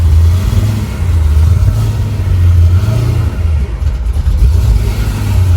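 A tuned 1000hp Cadillac CT5-V Blackwing engine runs rough and breaks up, a loud, close, low rumble that surges and sags unevenly, with no voices over it.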